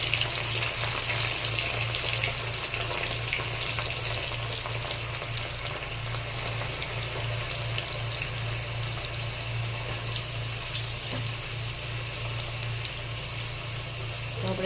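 Chana dal poured into very hot oil sizzles loudly and foams, a dense, continuous frying hiss that holds steady for the whole stretch, close by and with no talking.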